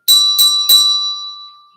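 Three percussion bells, high, medium and low, are struck one after another at a steady pace, each ringing note clear and close. The last note rings out longest and fades slowly.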